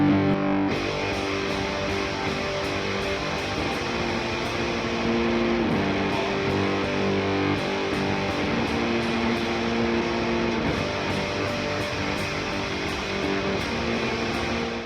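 Thick, dark shoegaze fuzz-pedal electric guitar chords played steadily, a saturated wall of sound with sustained notes and occasional chord changes, no voices.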